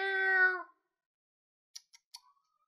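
A pet cat named Socks lets out one clear, close meow, followed after a pause by a few faint soft clicks in otherwise silent surroundings.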